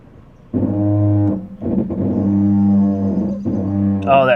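The brakes of a cheap former Domino's pizza car, just back from a police impound, let out a loud, low droning groan in three long pulses as it rolls slowly.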